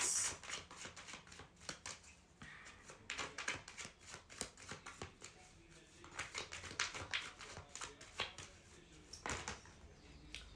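Tarot cards shuffled and drawn by hand, a steady papery patter of riffles and flicks with brief louder bursts of cards slapping together, close and alone with no talking.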